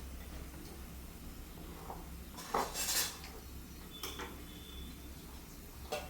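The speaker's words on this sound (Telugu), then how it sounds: "కొంచెం చిక్కగా కలుపుకోవాలి పిండి బ్యాటర్" Thick batter being mixed in a bowl, faint scraping and a few clinks of a utensil against the bowl, quiet and close.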